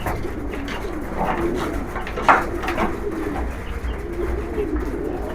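Tournament pigeons coo in soft repeated low calls close by, with light rustling and a brief chirp in the middle, and no one speaking.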